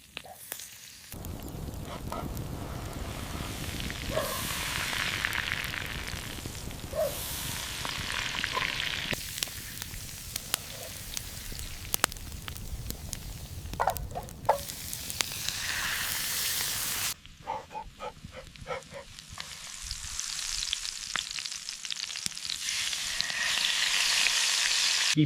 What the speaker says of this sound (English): Keep basting that zebra steak with a hot fat